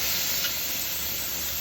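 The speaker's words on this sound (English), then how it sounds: "hear that sound when your steak hits the heat" Steak sizzles on a very hot pan, a steady, loud, broadband hiss that holds evenly with no talking.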